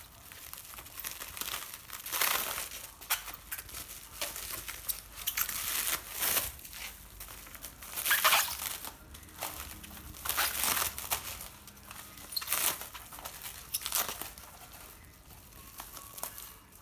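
A car Android display unit being unpacked from a foam box and bubble wrap, a long run of loud, close crinkling, rustling and crackling plastic in uneven bursts, with no talking.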